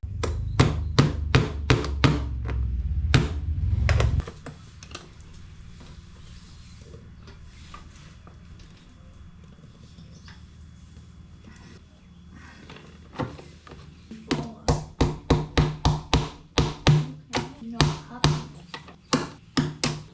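Sharp hammer blows setting rivets into a plastic motorcycle fender on a Moto 4 200 quad, in quick rhythmic bursts at the start and end with a quieter stretch of low background noise between.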